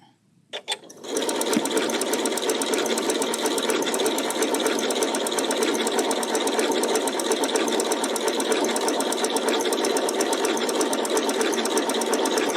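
After a couple of quick starts, a sewing machine settles into a continuous rapid straight stitch on a pink quilt block, loud, close and even for the whole stretch.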